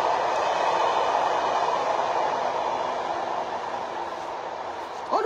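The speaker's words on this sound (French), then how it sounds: "trois trains qui passent." A train rolls past in a steady, loud, broadband rumble that holds for several seconds without a break, with a brief sharper noise at the very end.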